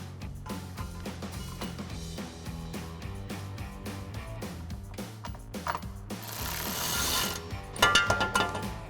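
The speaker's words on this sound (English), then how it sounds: "We'll go ahead and get our bottom one in, again with our ratchet and extension, 13mm socket" A ratchet with an extension and 13mm socket clicks in quick, repeated strokes while tightening a running board bolt on a 2019-2023 Silverado 1500, close and steady, followed by a brief hiss and clunks.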